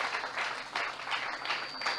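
A church congregation applauding, a dense wash of clapping from many hands that holds steady at moderate loudness for about two seconds.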